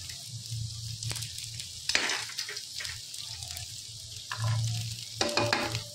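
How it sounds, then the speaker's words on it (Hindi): Onion and green chillies frying in hot mustard oil over a low flame, with a steady close sizzle and bursts of louder crackling as the pan is stirred. "और अब इसमें डालेंगे हम अपना प्याज और साथ ही में डाल देंगे अपनी हरी मिर्च।"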